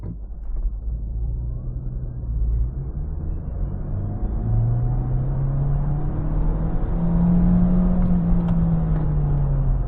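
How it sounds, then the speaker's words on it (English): MG3 1.5 l hybrid car in sport mode launching hard from a standstill, the engine and electric drive rising in a steady climbing whine and rumble as it accelerates, heard from inside the cabin at night, loud and continuous. "Fully stop, hold the brake and accelerator all the way, release the brake."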